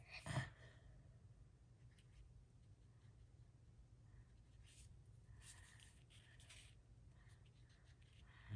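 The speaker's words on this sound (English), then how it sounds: "I'm gonna write a word that says spring" A pen writes letters on a paper card, with faint close scratching strokes in short bursts and one louder tap near the start, quiet throughout.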